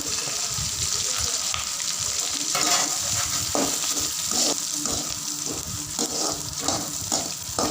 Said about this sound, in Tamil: நன்றாக வதங்கியவுடன் வெங்காயம் சேர்த்து வதக்கி கொள்ளவும்